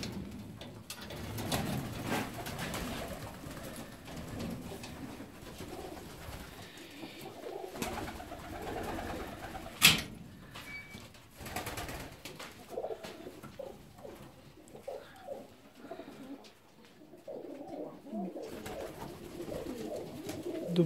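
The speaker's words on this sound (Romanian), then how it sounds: "Astăzi o să vă prezint voliera cu porumbei de ornament." Ornamental fancy pigeons of Indian, Siberian and Rostov breeds coo in an aviary, with repeated low, soft warbling calls overlapping at moderate distance and occasional rustles and wing flutters.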